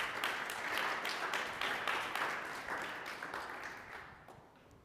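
Audience applause after a startup presentation at a Mars habitat challenge event, a steady wash of many hands clapping that fades out gently toward the end.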